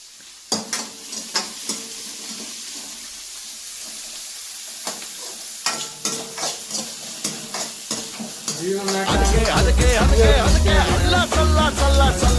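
Food fries in a pan until browned during a breakfast cook, with intermittent scraping stirs and clinks early on, then the sizzle swells into a loud, busy crackle toward the end.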